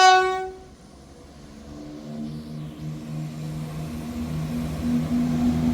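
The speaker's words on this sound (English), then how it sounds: "Departing out now is the 1503 ScotRail service from Edinburgh Waverley to Cowdenbeath." ScotRail service pulling away from a station near Dalmeny and North Queensferry, with a brief horn-like tone at the start, then a steady low rumble and engine drone that grows gradually louder as the train gets under way.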